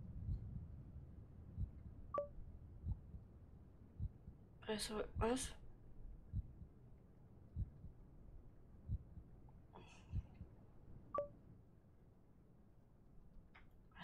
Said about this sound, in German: ich höre die ganze Zeit diesen Herzschlag